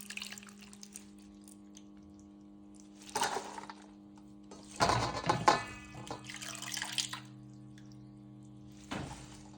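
Water sloshes and splashes in a few separate bursts as washed spring onion greens are lifted out of water into a large pan, with quiet pauses between.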